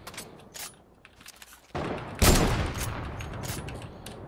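Rapid bursts of gunfire in the video game Fortnite, scattered shots early then a loud, dense volley midway followed by continued firing.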